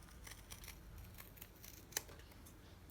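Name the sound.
cutting fabric for a pocket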